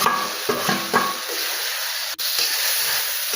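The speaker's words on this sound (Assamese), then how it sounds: "এতিয়া মই ভাজি ৰখা পটল আলুখিনি ইয়াত এড কৰি দিম" Fried pointed gourd and potatoes stirred into an onion gravy in a pan, giving a steady sizzling hiss with a few scraping spoon strokes near the start, close and fairly loud, no talk.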